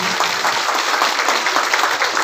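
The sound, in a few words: audience applause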